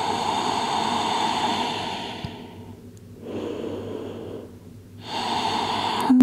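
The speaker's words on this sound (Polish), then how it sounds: "Kilka oddechów, odpoczywamy tu." Close, slow breathing from someone resting in child's pose during a full-body yoga stretch: long airy inhales and exhales come in a calm rhythm, with soft pauses between breaths.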